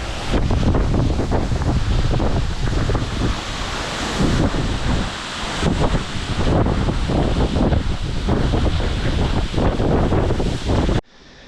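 Minyon Falls after heavy rain gives a loud, continuous rushing roar heard close up, mixed with gusty wind buffeting the microphone, and it cuts off abruptly at the end.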